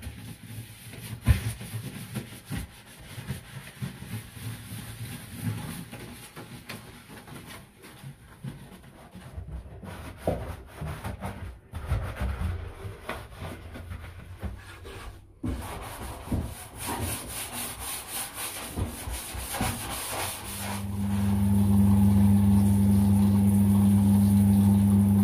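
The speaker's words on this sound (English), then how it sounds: "Now to scrub all the limescale remover into the tiles and rinse it all off." Bathroom tiles are scrubbed with limescale remover in irregular bursts of rubbing and scraping, followed near the end by a steady loud rush of rinsing water.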